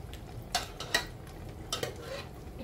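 Pork shoulder for a pot roast cooks in a pot with a soft, steady sizzle, punctuated by a few close utensil clinks and scrapes against the pot.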